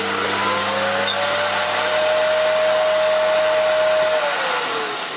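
A Hoover Dust Manager cyclonic cylinder vacuum cleaner, rated at 2300 W, runs at a loud, steady motor whine with a rushing airflow hiss, its pitch shifting slightly before winding down at the end.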